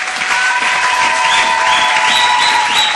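A church congregation applauds, a steady, dense wash of clapping from many hands with crowd noise, loud and sustained over a few seconds, with a held musical tone and rising notes beneath.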